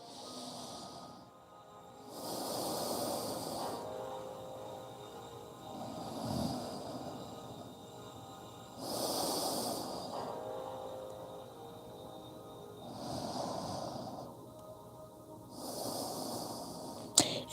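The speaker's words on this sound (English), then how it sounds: "breathing through your nose" Slow nasal breathing during a yoga session: long, soft inhales and exhales alternating roughly every three seconds, close and quiet, with a faint hiss on each breath and no talking.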